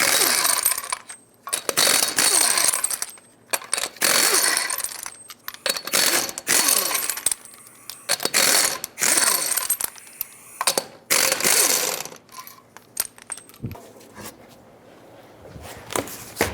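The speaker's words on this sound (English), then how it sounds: "removing the wheel, 21mm socket, remove all 6 of your lug nuts" A ratchet with a 21mm socket loosens the six lug nuts on a 2003-2009 Toyota 4Runner front wheel, giving loud, close bursts of rapid clicking separated by short pauses, with no talking.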